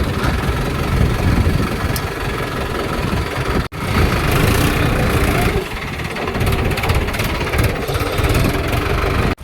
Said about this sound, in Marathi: हे ट्रॅक्टर डबा भरलेला तसं लगेच बाहेर काढणार आहे.